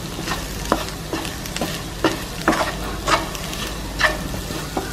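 Potato podimas sizzles in a pan while a spoon breaks up the pieces, with soft steady frying under a series of irregular scraping and tapping strokes.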